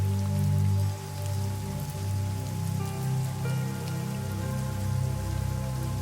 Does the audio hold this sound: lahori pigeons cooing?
no